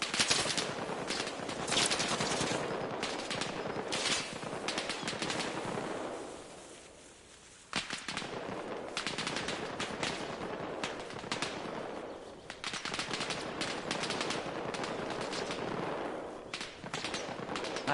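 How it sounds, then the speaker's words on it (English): Machine gun fire from the Arma Reforger military shooter, sustained rattling automatic bursts, some near and some more distant, with brief pauses between volleys and no talking. "I think I count 2 MGs I hear so far down there."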